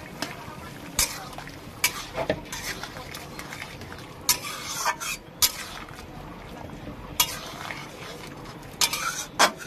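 Poppy seed paste being stirred in a cooking pan for a potato and drumstick-stem curry, with repeated scraping and clinking of a spoon against metal in an irregular rhythm over a low sizzling, watery simmer.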